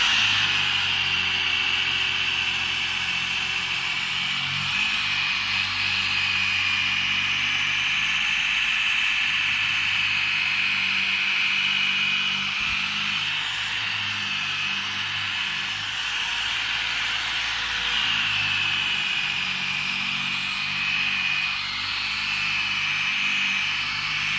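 A polishing tool running at 6,000 RPM on a car headlight during restoration, a steady high-pitched whine with a droning hum beneath, constant and close for the whole stretch.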